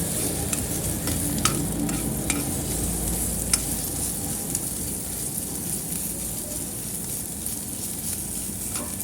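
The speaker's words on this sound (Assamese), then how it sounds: "এতিয়া মই আদা নহৰু আৰু জলকীয়া পেষ্টখিনি অলপ সময় ভাজিম" A paste of ginger, garlic and green chili frying in a pan for an Assamese khaar dish, a steady close sizzle with occasional sharp ticks of spatula stirring.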